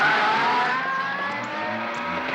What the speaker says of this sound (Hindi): तू रिवर्स में गाड़ी क्यों चला रहा है?